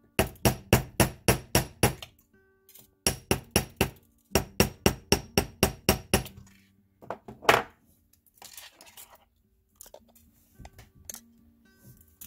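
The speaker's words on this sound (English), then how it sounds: "Hammer a bit." Metal wire for a wire-wrapped heart stone is struck with a small hammer in quick bursts of sharp, close taps, three runs of about six to eight blows each, followed by scattered lighter clinks and handling sounds.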